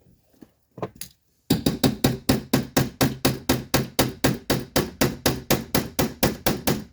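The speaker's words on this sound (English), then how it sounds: "I just want to hit hard enough to get that rivet to come through" Hammer striking a punch to drive out a rivet on a Lincoln Town Car driver side window motor, a fast run of about twenty sharp metallic blows in steady rhythm after a couple of lighter taps.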